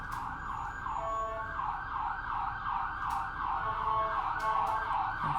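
An emergency vehicle siren wails in steady rising and falling cycles at moderate distance, continuous across the stretch with a few faint clicks over it.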